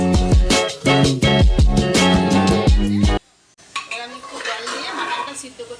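Mutton is stirred in a cooking pot, with loud metallic clanks and scrapes of a utensil against the pot in a quick rhythm, followed by a brief pause and then softer sizzling and stirring.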